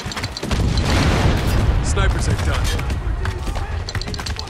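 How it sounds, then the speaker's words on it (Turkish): Mortar shell blasts in the Spec Ops: The Line video game: a dense, loud rumbling explosion that fills the whole stretch with sustained roar and debris, under someone speaking Turkish. "Havan topu size de çarpmasın."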